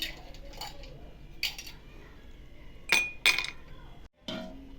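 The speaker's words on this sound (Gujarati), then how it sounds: "બરફના ટુકડા એડ કરીશું" Ice cubes dropped into a glass of raw mango sharbat give a few bright clinks close by, two sharp knocks standing out over quiet background noise.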